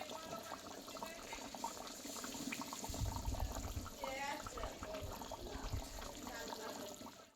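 Water is poured into a pot of part-cooked chicken and potatoes for a Bengali chicken dish, giving a steady splashing, filling rush with a brief louder surge midway, under a busy kitchen background.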